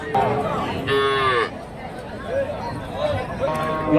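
Dairy cattle moo loudly several times over a busy outdoor crowd at the Karimangalam cow market in Dharmapuri, with people talking throughout and long drawn-out lowing calls rising above the chatter.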